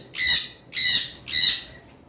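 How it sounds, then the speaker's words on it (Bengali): Blue Fischer's lovebirds let out three loud, shrill chirping bursts at an even pace, each roughly half a second long, close by with a quiet background between them. "আমাদের কাছে নর্মাল ব্লু ফিশার রয়েছে"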